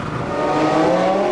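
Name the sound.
Formula One race car engines revving at race start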